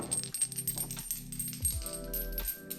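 Die-cast metal toy missiles clink against each other up close, a few light metallic taps and rattles in a quiet room.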